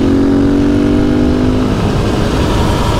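A modified KTM 450 EXC-F supermoto engine revs loud and close, with a steady buzzing note that climbs over the first seconds and then turns rougher and more broadband as it keeps pulling.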